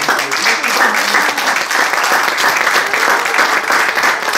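Church congregation applauding during a Spanish-language sermon, a dense continuous wash of clapping filling the space at steady loudness, with a voice faintly audible beneath it.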